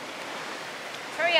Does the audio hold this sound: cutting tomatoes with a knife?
no